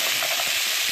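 Chopped raw butternut squash, about 250 grams, hits a hot pan with butter and sizzles in a loud, steady hiss for under a second, with no talk.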